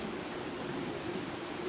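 Rain falls in a ray-traced video game, a soft, steady, even hiss of drops that runs faintly throughout, with no talking.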